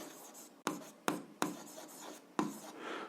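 Pen strokes on paper while an algebra equation is written out by hand, a soft rubbing scratch broken by four or five sharp taps as new marks begin, close and quiet with no talking.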